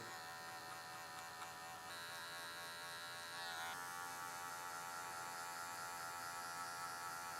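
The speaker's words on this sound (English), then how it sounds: "I'm angling the clipper just down towards behind the ear" Electric hair clipper steadily buzzing close up while angled behind the ear during a curly mullet haircut, a constant hum with a brief pitch shift midway and no talking.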